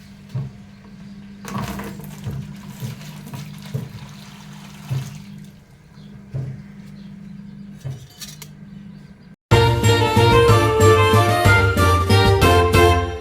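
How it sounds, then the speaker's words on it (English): Water poured out of a canning pot used for water-bath canning salsa, with a few light clinks and a quiet stretch before a loud, steady rush of pouring water near the end. "this water I'm just going to empty out"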